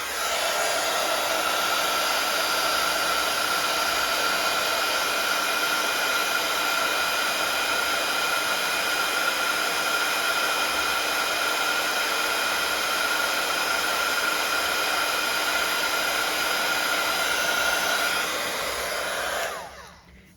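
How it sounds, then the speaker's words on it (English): A heat gun blows with a steady, loud whooshing roar while heat embossing a stamped card, running continuously for about nineteen seconds before switching off and winding down. "So I'm just going to heat emboss that while we're waiting."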